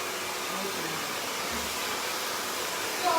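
A Torlen hair dryer blows a steady, loud, even airflow roar close by, continuous throughout, with no voices.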